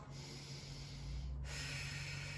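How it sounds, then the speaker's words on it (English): One slow deep breath during a Pilates mat session, drawn in through the nose as a steady soft hiss, then released through the mouth in a breathier exhale, close and quiet with no talking. "take a deep breath in through the nose, out through the mouth"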